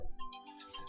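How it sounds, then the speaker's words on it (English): A phone alarm goes off as a repeating electronic tone, short bright beeps pulsing at a steady rhythm over a low background hum, fairly quiet and close. "That is an alarm. That is not a phone call."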